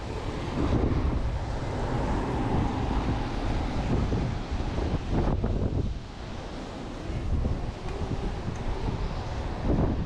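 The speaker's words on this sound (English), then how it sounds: "It's a little bit windy, guys." Strong wind buffets the microphone with a continuous, loud rumbling roar that barely lets up throughout.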